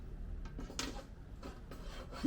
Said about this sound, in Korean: 요 철제 상판 한번 올려보겠습니다.